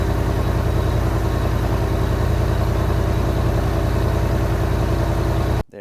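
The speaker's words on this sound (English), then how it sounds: "We do have the laser etched dual exhaust tips as well. So that's going to give it a nice sound." A 2025 Roush RT6 Ford F-150 pickup idles through its dual exhaust with laser-etched tips, a loud, steady, deep rumble with a fast, even pulse that cuts off abruptly at the end.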